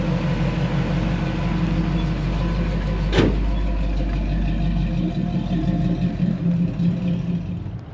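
A 1968 Pontiac Firebird with a 400 engine idles at a Firebird and Trans Am car show, giving a steady, loud, low rumble with one brief sharp transient partway through and no talking.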